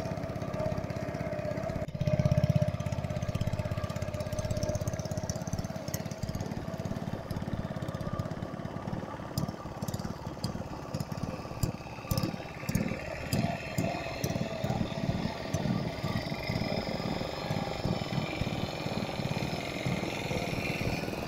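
Ferry boat engine on the backwater channels around a one-man island at Murikkal, Ernakulam, Kerala: a steady, throbbing mid-range engine drone with a rapid chugging pulse, running continuously at moderate distance with no talk.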